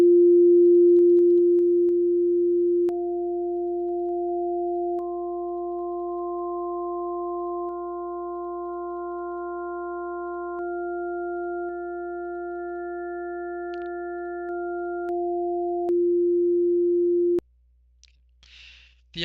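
Sine wave partial tones in tuning software, a steady pure tone joined one by one by higher stacked partials that drop out in turn, leaving the base tone before it cuts off abruptly; no voices.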